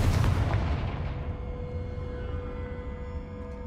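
A Confringo explosive spell goes off in the Hogwarts Legacy video game: a heavy, close boom that hits at once and then rumbles and fades over a few seconds, with no voices.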